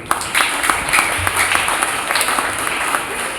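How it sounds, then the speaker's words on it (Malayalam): An audience at a school event honouring St. Joseph's HS Angamaly winners of the state school sports meet gives a steady round of clapping. The dense applause is loud and close and continues for the whole stretch. "ഒരു നല്ല കയ്യടി കൊടുത്ത് ഞാനും അഭിനന്ദിക്കുകയാണ്"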